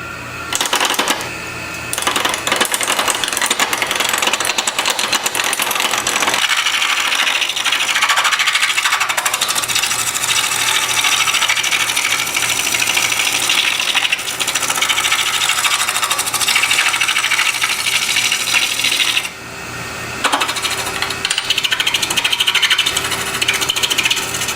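A woodturning lathe roughs out a Bradford pear blank about 2 1/4 inches square, a loud continuous rasping, chattering cut that runs almost unbroken, with a brief drop near the start and one short pause late on.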